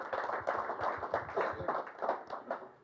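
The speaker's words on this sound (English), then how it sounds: "I would ask to give yourself a broad applause for what you've done" Audience at a workshop's closing session claps steadily, a moderate crowd of hands heard close and fairly quiet, no voices over it.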